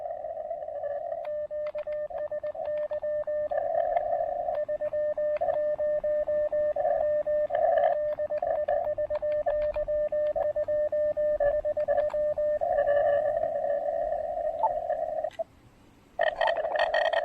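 An amateur radio receiver tuned to the 30-meter band gives a steady Morse code CW tone, keyed in rapid dots and dashes over a constant hiss, with a brief dropout and fainter second signal near the end.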